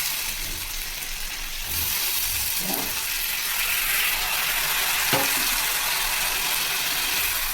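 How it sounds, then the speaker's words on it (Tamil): Onions and tomatoes fry in oil in a pan for egg gravy. A constant sizzle runs throughout, broken by brief scraping stirs and a utensil knock. "வதங்கிடுச்சு வெங்காயம். 3 தக்காளி போட்டு வதக்குங்க."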